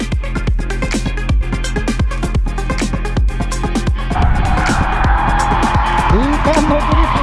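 A car doing donut drifts at a drift day, loud engine roar with repeated revving bursts, then a sustained tire squeal as the car spins.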